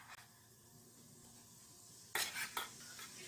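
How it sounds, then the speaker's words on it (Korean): Seasoning sauce stir-fried in sesame oil and cooking oil gives a faint, quiet sizzle, followed near the end by two short bursts of a utensil scraping the pan. "요거를 볶아주세요."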